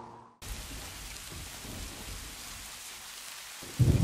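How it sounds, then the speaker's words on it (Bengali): A storm in an animated Bengali story: steady heavy rain with wind and rumbling thunder, starting abruptly after a brief quiet moment and holding at an even roar, with a louder gust or crash near the end. "বলতে না বলতেই তো ঝড় শুরু হয়ে গেল।"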